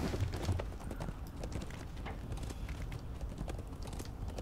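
A war steed's hooves beat in a quick, continuous galloping clip-clop in a video game, fairly quiet and steady throughout.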